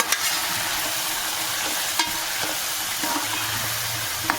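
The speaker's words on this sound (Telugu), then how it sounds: "ఇప్పుడు ఉడకబెట్టుకున్న బోటి అన్నది ఉల్లిపాయలు దాంట్లో వేసుకోవాలి." Boiled goat tripe added to onions frying in a pan for gongura boti, with a steady hiss of sizzling oil, a few sharp clinks of a spoon against the pan and some stirring noise nearby, no speech.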